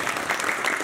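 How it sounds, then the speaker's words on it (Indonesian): Brief burst of applause from a crowd of football supporters at a religious talk in Malangbong, Indonesia, steady and fairly close for under a second. "tepuk tangan buat kita semua"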